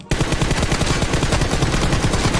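Rapid, continuous automatic gunfire from the PUBG Mobile video game during a team deathmatch, sharp bursts following one another in a loud, steady rhythm with no talk.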